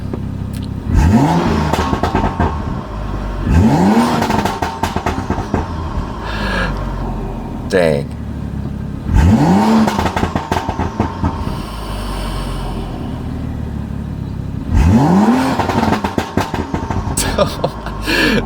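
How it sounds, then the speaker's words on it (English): Loud engine revs with popping, crackling exhaust burbles from a BMW F30 tuned for aggressive burble settings, heard from inside the car, repeating in bursts, with a brief spoken exclamation. "There's a lot more burbles, and obviously they're for a longer duration, and they just sound louder in general"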